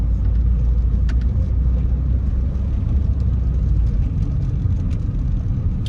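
A car driving down Mary Street in a neighborhood of Alexander City, Alabama, heard from inside as a steady, loud low engine and road rumble with tire noise, continuous throughout.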